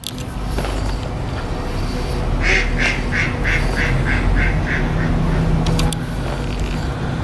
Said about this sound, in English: Look at the babies. There's little duckies down here.